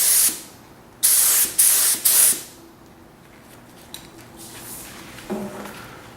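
Short bursts of spray paint hiss close up as a coat goes onto parts for a 1994 Firebird, four quick blasts early on followed by quieter handling noises and a faint clunk.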